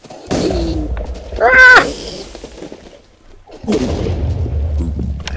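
Throwable dynamite explodes in a Minecraft weapons mod: two loud, broad blasts with rumbling tails, about three seconds apart, and a short shout rising between them.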